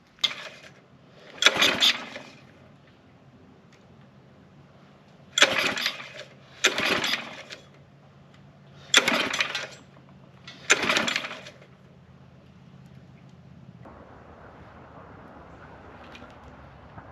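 A Briggs & Stratton LO206 racing engine on a mini bike being pulled over by hand: six short, sharp cranking bursts with quiet gaps between them, followed by a low, steady hum from about 14 seconds on.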